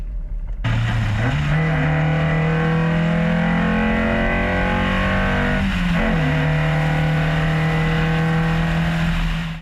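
A Honda Integra B18B engine revs hard and holds around 5,000 to 6,000 rpm, a loud, steady roar that dips briefly and climbs again, close by.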